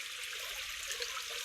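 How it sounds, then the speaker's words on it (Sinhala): Water flowing along a village canal in rural Sri Lanka, a steady, close, hissing rush with no breaks and no voices. "ඒ වතුර"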